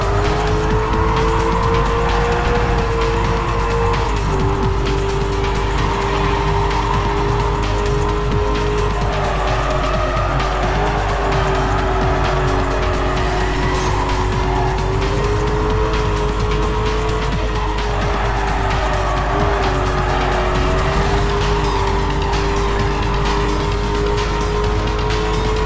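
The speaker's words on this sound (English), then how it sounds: "This muscle car is a beast when it comes to straight line speed." Muscle car racing in Need for Speed Carbon: a loud, sustained engine drone rises and dips through gear changes, with tire squeal and skidding layered over it for the whole stretch.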